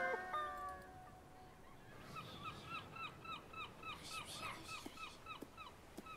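Toto, a cartoon police dog, gives a run of short, repeated whimpering yelps in a quick rhythm, fairly faint, over light background music.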